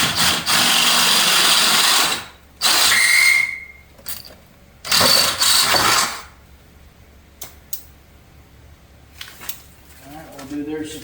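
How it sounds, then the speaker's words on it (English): A power drill with a 25/64 bit bores out a hole during a Gladiator inner fender install, running in loud whining bursts of a couple of seconds separated by pauses, with faint clicks and brief talk near the end. "Drill this out."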